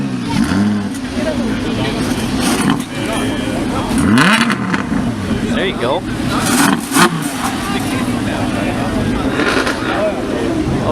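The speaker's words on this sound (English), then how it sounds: "Oh shit, F-type revving." A Jaguar F-Type sports car revs its engine at a busy car meet, with loud rising and falling engine roars among other cars' exhaust noise while people talk and shout nearby.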